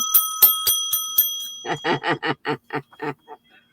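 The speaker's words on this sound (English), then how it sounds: "Was that Grandpa's bell?" Grandpa's bell rings as a run of sharp, bright dings, about five clear strikes followed by a faster, softer rattling series of rings that fades out over a few seconds; no talking.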